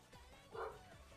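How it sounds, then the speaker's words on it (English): A dog barks once, faint and distant, in a quiet room. "Sorry about my dog."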